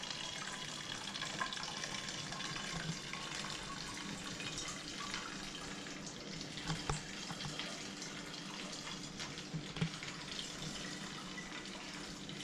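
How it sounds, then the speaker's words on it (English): Home-brewed moonshine, a 37% spirit, pours steadily into a bottle as a continuous liquid trickle and splash at close range, with a few small clinks along the way. "So now it's just a case of filling up your bottle"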